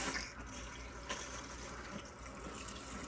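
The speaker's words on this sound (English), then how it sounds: "we're gonna pull the hose out, turn on our water" Water runs steadily from a salon shampoo hose at a wash basin, a constant close hiss and gush of spray with no break.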